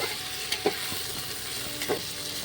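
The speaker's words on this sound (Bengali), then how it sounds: "আলুটা একটু ভেজে দিলে ভালো হবে" Steady sizzling of potatoes frying in a pan for chicken curry, with a couple of soft scraping stirs breaking through the constant hiss.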